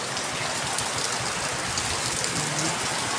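Steady heavy rain pours down, a dense continuous hiss of drops drumming on surfaces with no break, loud and close throughout.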